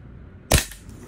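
A single sharp, close crack from a VFC Colt XM177E2 gas blowback airsoft rifle firing one shot, followed by a short fading tail.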